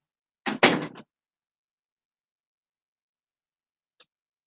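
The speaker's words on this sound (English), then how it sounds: "Let me close my door so my son can't hear me." A door in a home swings shut with a single short thud, then a faint tick of the latch a few seconds later, followed by quiet.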